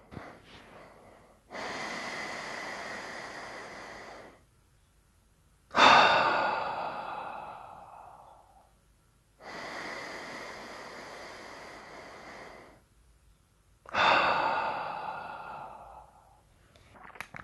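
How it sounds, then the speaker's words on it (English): Slow, deep belly breaths drawn in through the nose and pushed out through the mouth, two full cycles with steady airy inhales and stronger gusty exhales, close and alone, separated by short silent pauses. "breathe through your nose and out through your mouth, and concentrate on the belly breathing here"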